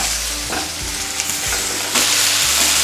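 Potatoes fry in a pan with a continuous close sizzle, broken by several scraping stirs of a spoon against the metal, and no one speaks.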